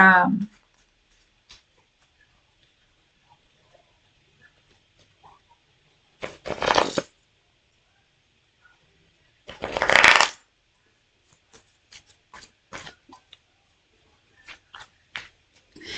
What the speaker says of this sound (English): these cards are hard to shuffle. They're all like sticking together.